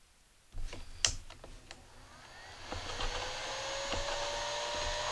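Bauer dual fan speed heat gun blowing steadily after a few clicks and knocks, its broad airy whoosh rising and holding at a constant level close by, with a faint whine over the rushing air.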